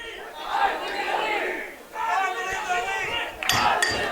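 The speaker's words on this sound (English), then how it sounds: "Now we'll see what the Van College Fighting Irish's crowd noise can add to this one" Spectators at a 2018 British Columbia high school football game between Vancouver College and South Delta roar and cheer, a large crowd swelling in waves with shouts rising through a fairly distant, reverberant mix.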